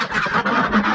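Ducks and geese being let out of their pen make a dense, close, continuous flock of honking and quacking lasting about a second.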